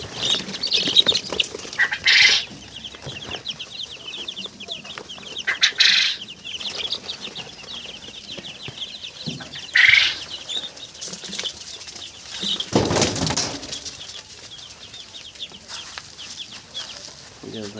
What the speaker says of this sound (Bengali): আপনারা দেখতে পাচ্ছেন এই যে টাইগার মুরগির বাচ্চা ব্রোডিং চলছে।